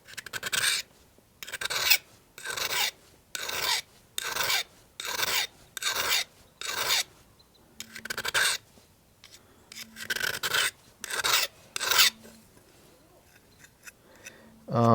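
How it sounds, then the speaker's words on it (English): Hoof knife sharpened on its single beveled side for horseshoeing, giving rhythmic rasping strokes, about a dozen evenly spaced scrapes close up with brief pauses between them. "With your hoof knife, you only want to sharpen it from one side."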